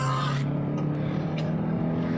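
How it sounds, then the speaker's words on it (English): A first-generation Honda Jazz engine drones at high revs toward its 6,500 RPM redline, a strong sustained mechanical hum with steady pitch, loud and close. "Let's rev her out."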